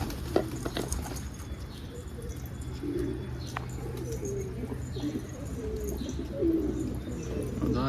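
Domestic pigeons coo in low, rolling murmurs at close range, with faint chirps and light pattering in the loft. A continuous low hum sits underneath.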